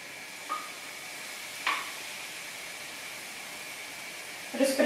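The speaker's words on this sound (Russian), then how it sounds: "Все, пусть блинчик жарится." Pancake batter sizzles in a hot frying pan with a faint, steady hiss, broken by a few soft clicks and a brief clatter near the end.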